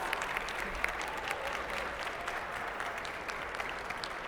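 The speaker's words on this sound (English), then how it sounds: "Please let's give them a warm round of applause" A crowd at a Magic: The Gathering preview panel claps warmly for the panelists, a steady, fairly distant wash of applause with no talking.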